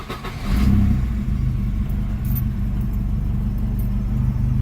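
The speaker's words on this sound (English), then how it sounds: "let you guys hear the engine a little bit." Volvo 240 Turbo engine idling steadily at close range, a low continuous rumble with a slight putt, loud and alone without voices.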